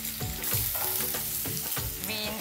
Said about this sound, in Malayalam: മസാല മൂത്ത് വരുമ്പോൾ നമ്മൾ നുറുക്കി വെച്ച സവോള